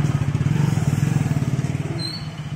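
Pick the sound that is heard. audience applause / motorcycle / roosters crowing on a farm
motorcycle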